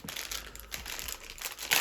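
A thick plastic package bag from a lost postal parcel crinkles and rustles continuously up close while being handled, ending in a louder, sharper crackle.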